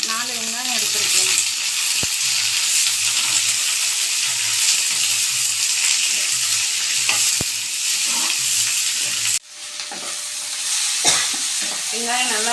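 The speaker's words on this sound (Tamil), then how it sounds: "வெங்காயம் நல்லா வதங்கிடுச்சு." Sliced onions frying in a pan for coriander chutney, a loud steady sizzle with repeated scraping stirs close by, briefly dropping and resuming near the end.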